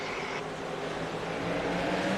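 Race cars accelerate at a short-track start as the pace car pulls off, a dense engine roar that swells louder through the whole short stretch.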